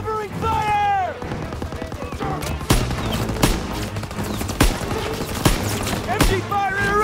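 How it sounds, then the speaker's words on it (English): Machine gun fire and explosions in the World War II shooter Call of Duty WWII, during a campaign assault on Hill 493. Rapid bursts and sharp booms sound loud and close, with shouting voices mixed into the fighting. "You gotta suppress the machine gun!"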